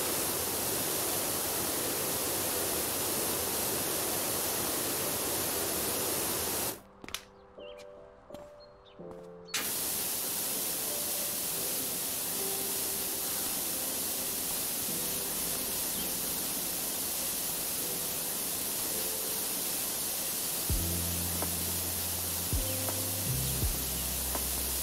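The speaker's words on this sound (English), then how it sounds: "White noise, warmth, relaxing neck, gentle massage." A power washer's spray makes a steady, loud hiss of white noise that drops out for a couple of seconds partway through and then resumes evenly.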